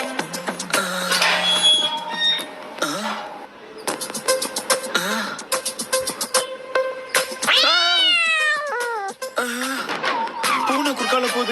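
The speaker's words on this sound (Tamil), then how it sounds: "பூனை குறுக்கால போகுது." A cartoon cat meows and wails repeatedly in a busy, loud soundtrack, with drawn-out caterwauling cries over music and effects.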